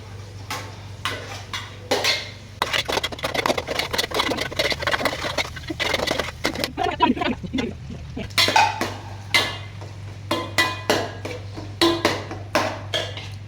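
Onions and salt are stirred in a pan, with repeated close metallic scrapes and clinks of a spoon against the pan over a steady low hum.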